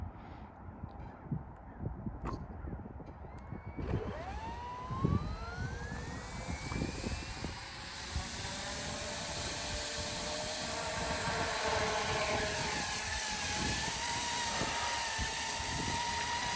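A Goosky E2 UH-1Y Venom RC toy helicopter spools up from a few clicks into a rising high-pitched motor whine, then settles into a steady loud buzz of rotor and motor as it lifts off and flies nearby.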